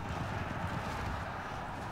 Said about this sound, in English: Oh wow, sent some Mongol horse archers.